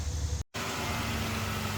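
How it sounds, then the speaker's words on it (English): A pickup truck engine idles steadily nearby, a continuous low hum broken by one very brief dropout near the start. "All right, truck's running."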